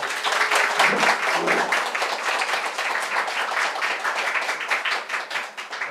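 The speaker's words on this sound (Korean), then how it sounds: "좋은 강연 해주신 정서진 사장님께 다시 한번 큰 박수 부탁드리겠습니다." A lecture audience gives a round of applause, with crisp, rapid hand claps packed into a lively, steady burst that tapers slightly at the end.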